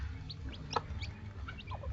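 A brooding hen clucks in soft, scattered calls over a low steady background rumble, fairly close and quiet.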